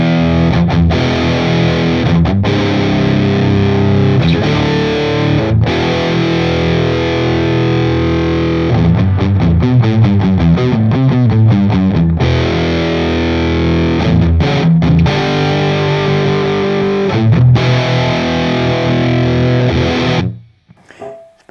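Heavily distorted electric guitar through a Laney tube amp plugin plays chugging chords and riffs with sustained, saturated tone, ending abruptly.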